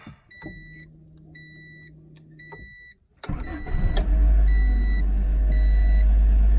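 A 1995 Honda Civic Si starts up: dashboard chimes beep repeatedly, the starter cranks briefly, then the engine catches and settles into a loud, steady idle rumble alongside more chiming.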